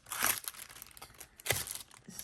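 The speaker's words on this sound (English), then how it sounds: "And I apologize for the crinkling." Plastic packaging on newly ordered art supplies crinkles as it is handled, in two short, close bursts of rustling about a second apart, with quieter rustles between.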